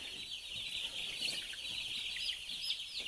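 A flock of around 285 young chicks on a farm peeps constantly, a dense, high, overlapping chorus of chirps filling the whole stretch.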